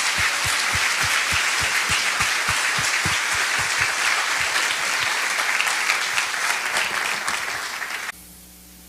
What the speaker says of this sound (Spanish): ¿Por qué no le da un fuerte aplauso a nuestro Dios?